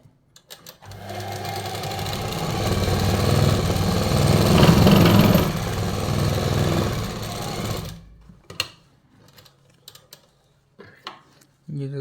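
A sewing machine stitching the bottom band of a simple kurta runs in one steady, loud burst of about seven seconds, then stops, leaving a few faint handling clicks and thumps.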